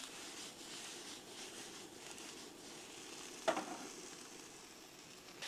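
Quiet, steady sizzling of vegetables frying in a pan at a campsite in D'Entrecasteaux National Park, with a single soft clink midway.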